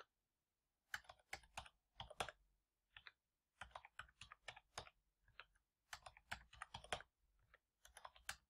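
Quiet typing on a computer keyboard while entering numbers into answer fields, irregular bursts of close, crisp key clicks separated by short pauses, with no voice.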